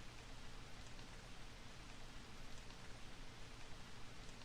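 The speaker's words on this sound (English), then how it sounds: "It wasn't raining like it is now when I made the drop-off." Steady rain pours in a video game scene from Ace Attorney Investigations, a soft continuous hiss of drops with no gaps or distinct impacts, alone and fairly quiet.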